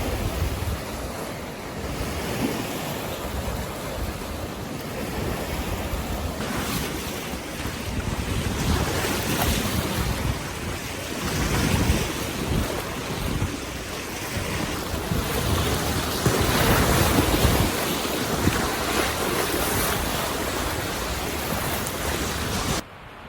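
Continuous roar of ocean surf rolling onto a beach with heavy wind buffeting the microphone, waves swelling and receding in broad surges, loud and close with no voices.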